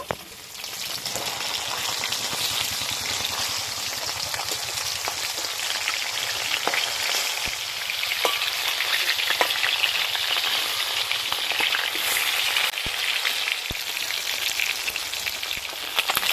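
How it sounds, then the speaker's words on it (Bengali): River fish pieces fry in hot oil in a pan, giving a dense, steady sizzle with light crackling pops that runs unbroken and close throughout, with no voices. "মাছের দু পিঠ ভালো করে ভেজে নিয়েছি"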